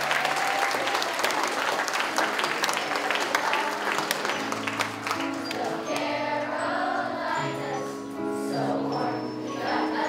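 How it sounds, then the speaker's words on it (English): An audience applauds steadily after a fifth grade school play, sustained clapping throughout, with children's singing and a melody rising underneath in the second half. "give them another round of applause"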